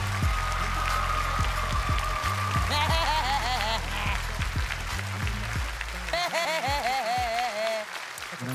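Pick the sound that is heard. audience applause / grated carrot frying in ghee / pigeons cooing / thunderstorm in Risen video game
audience applause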